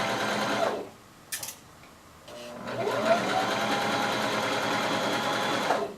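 Sewing machine stitching fabric along a rolled edge, a close steady mechanical whirr that pauses briefly, gives a few clicks, then resumes in a long even run.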